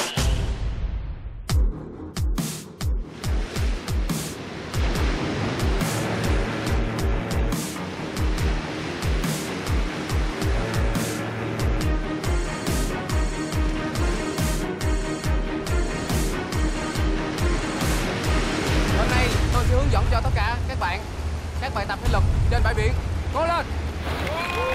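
Ocean waves on the beach at Phan Thiet, a continuous wash of surf broken by rhythmic splashing that builds louder near the end, with music playing over it.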